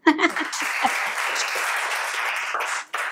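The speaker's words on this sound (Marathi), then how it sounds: "जोरदार टाळ्या देऊया तिला." Audience applause for an army officer at a talk, a dense burst of clapping starting abruptly, holding steady for nearly three seconds, dipping briefly and resuming.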